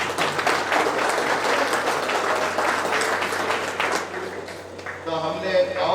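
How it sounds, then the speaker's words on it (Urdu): Women in the audience at a college felicitation ceremony for second PUC achievers applaud together in a dense, steady wash of clapping, with voices mixed in. "تو خواتین تالی بجا رہی ہیں"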